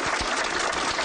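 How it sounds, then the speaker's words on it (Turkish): Dense applause from a crowd, a steady close wash of clapping hands throughout the short burst. "Tüm Türkiye sizleri alkışladı şu an."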